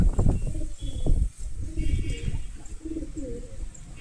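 Pigeons coo softly at close range in a loft or enclosure, with low repeated calls over a steady background, a few faint chirps, and some murmuring voices mixed in.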